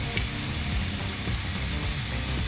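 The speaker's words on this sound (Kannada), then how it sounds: "ಸೊ ಈಗ ಇದು ಕೂಡ ಹಸಿ ವಾಸನೆ ಹೋಗೋ ತನಕ ಫ್ರೈ ಆಗಲಿ" Naati-style egg curry masala gravy fries in oil in a pan, giving a steady, close sizzle and crackle that runs unbroken throughout with no voices.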